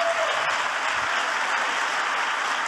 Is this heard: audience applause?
yes